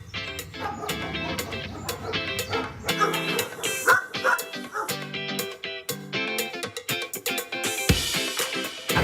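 Several dogs barking at an animal shelter housing many dogs and cats, overlapping sharp barks and yips in rapid bursts, some near and loud, others further off, with occasional whimpering and no talk.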